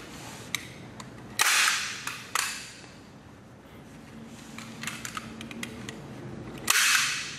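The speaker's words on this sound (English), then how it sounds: "Make sure we got it pulled nice and tight as we can get it, and then staple it down." Staple gun driving staples through marine-grade carpet onto a trailer bunk board, three sharp loud snaps spaced apart with quieter handling noise between them.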